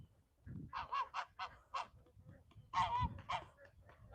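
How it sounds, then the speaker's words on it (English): Geese honk repeatedly on a farm at evening chores, short nasal bursts, several calls overlapping at moderate distance with brief pauses between them. "the geese we've determined are now smarter because they're following for the food"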